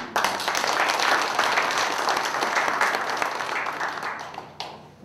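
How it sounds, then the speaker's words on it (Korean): Warm, sustained applause from an audience at a veterans' organisations' New Year gathering, dense clapping filling the whole stretch at a steady loud level before tapering slightly near the end. "뜨거운 박수로"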